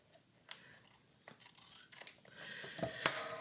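Scissors cut a piece of paper off for a journal, with a few quiet snips and some soft rustling, close and faint.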